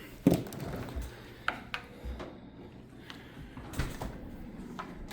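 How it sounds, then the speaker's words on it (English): A kitchen drawer rubbing against the neighbouring drawer, heard as a series of scattered wooden knocks, scrapes and taps at moderate distance, with one sharper bump near the start. "You got a drawer there that just rubs on the other one"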